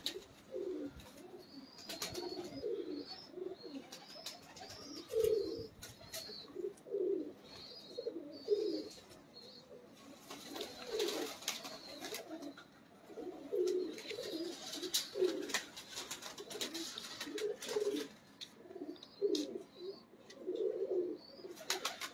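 Badshah pigeons, a fancy Pakistani breed, coo steadily in a continuous chorus of soft, rolling calls close by, with occasional faint chirps and wing rustles behind them and no talk.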